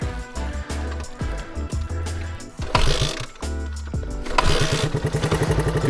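A tiny 100cc dual sport motorcycle is kickstarted, with repeated mechanical clunks of the kick lever and ratcheting before the small single-cylinder engine catches and runs with a buzzy, uneven idle close by.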